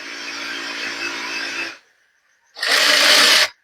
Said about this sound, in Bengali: এই ভোর দিন সেলাই করে করে সেলাই করছি দেখো